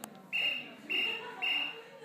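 Three short, clear whistle tones from a Strapya World toy, evenly spaced about half a second apart, each a steady high note sounding close and loud over a faint room background.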